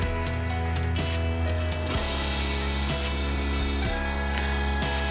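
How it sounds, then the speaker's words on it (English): Square end scraper cutting a claret ash live edge bowl on a wood lathe, a continuous humming drone with scraping texture and a few sharp ticks as the tool meets the uneven rim. "Just using this square end scraper to define that profile fully."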